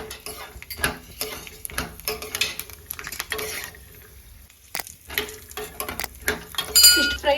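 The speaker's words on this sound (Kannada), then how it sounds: "ಇವಾಗ ಕಾಜು ಹಾಕೊಂಡು ಫ್ರೈ ಮಾಡ್ಕೊಂಡ್ಬಿಡ್ತೀನಿ ಕರೆಕ್ಟಾಗಿ." Cashews fry in a kadai with a soft, uneven crackle, overlaid by frequent light taps and scrapes of a spoon against the pan, close and moderately loud with a brief quieter lull midway.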